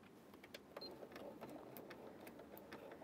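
A sewing machine runs steadily at close range, stitching bias binding onto a T-shirt sleeve, with a quiet, even mechanical whir and rapid needle ticks.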